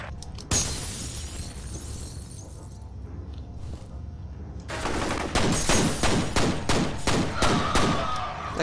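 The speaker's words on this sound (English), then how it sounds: "That grenade should have blasted the both of them." Grenade blast followed by gunfire in the shooter game F.E.A.R.: a sharp crack and rumbling decay, then a rapid run of loud, evenly spaced shots with a steady background din.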